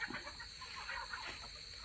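Chickens clucking softly as they settle into their coop at dusk, a steady low murmur of fowl sounds under a constant hiss of insects or ambient noise.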